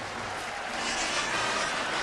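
Football stadium crowd at a Georgia Southern home game roaring after an onside kick, a broad, steady wall of cheering and applause heard from a distance.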